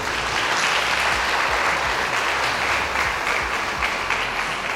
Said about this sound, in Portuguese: Dá uma salva de palmas para essa mulher, por favor